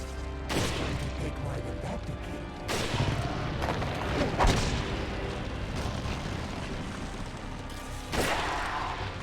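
Gunfire and booming blasts from the video game Resident Evil 4 erupt in several heavy bursts, the loudest arriving near the start, middle and end, with rumbling noise continuing between them.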